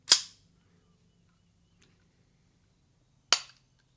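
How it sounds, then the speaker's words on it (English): A barrel locking up into the slide of a threaded Nighthawk Custom 1911 pistol gives two sharp metallic clacks about three seconds apart, each crisp and close with a quick decay, over a faint low background hum. "And she's locking up now."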